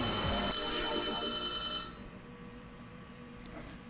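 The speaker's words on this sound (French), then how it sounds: "J'ai la sonnerie qui arrive" A telephone ringtone rings loudly and steadily for about two seconds and then cuts off. It sounds over constant background noise while a PS2 Grand Prix racing game is played.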